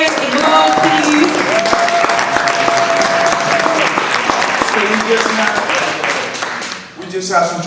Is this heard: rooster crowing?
no